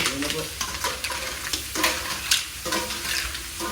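Squid stir-fried in a pan with butter, a steady loud sizzle broken by the scraping and clatter of stirring, close up with no talk.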